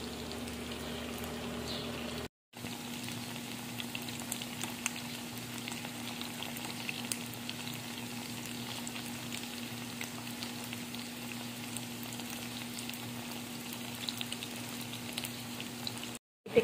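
Vegetables for Mongolian barbecue sizzle and fry steadily in a pan as they are mixed, a continuous close crackling hiss with a low steady hum beneath and a brief cut near the start.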